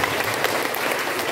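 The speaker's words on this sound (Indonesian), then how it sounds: "Kita berikan aplaus sekali lagi." A church congregation at a Christmas Day Mass claps together, giving brief, steady, moderately loud applause with no voices.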